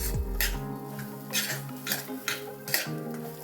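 Mung dal roasting in a pan, stirred with a spatula: repeated metallic scrapes and clinks against the cookware come in bursts, fairly close and loud, with no talking.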